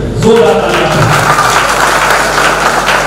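An audience at a poetry gathering breaks into applause, a dense, steady wash of clapping that holds loudly throughout.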